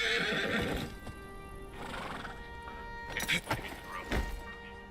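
A horse in a video game whinnies loudly, followed by clopping hooves and a few thuds, with faint talk in the background.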